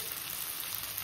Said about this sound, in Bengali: লবণ ভেজে নেব মশলাটা